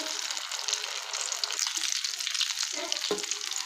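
Egg potato cutlets fry to golden in hot oil, giving a steady close sizzle with faint stirring and a few soft knocks near the end.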